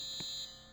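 A fire alarm in the Roblox game Brookhaven sounds a steady, piercing high electronic tone that holds briefly and then cuts off, with a faint tap partway through.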